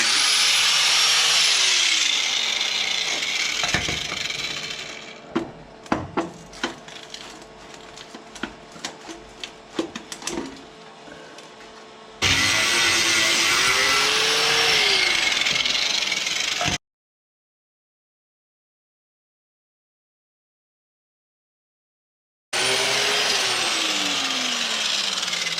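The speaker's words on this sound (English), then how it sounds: "I'm going to get my cutoff tool and I'm going to cut these bolts off back here." A cutoff tool grinds through the bolts holding an old light on a dump truck, giving a loud, whining, gritty roar. It runs in long bursts with a stretch of scattered clicks and a clear pause before the last cut.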